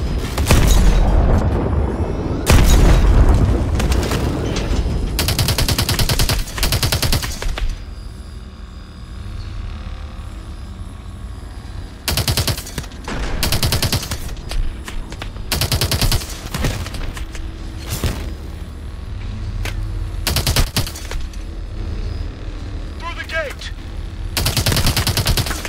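Tank cannon fire and missile launches in the video game Advanced Warfare, repeated loud booming blasts and bursts of gunfire spread through the battle, with voices talking between shots.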